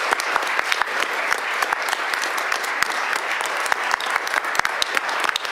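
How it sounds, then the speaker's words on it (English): Audience at a city's state of the city address applauding public servants, a steady, fairly distant wash of many hands clapping with sharp individual claps poking through, continuous throughout. "Let's applaud all these dedicated public servants who are with us."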